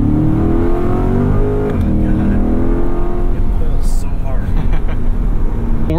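A 2020 Chevrolet Corvette C8 climbs a snowy hill in weather mode with traction control on, its engine droning steadily and loudly throughout with a slight rise in revs, while people talk over it.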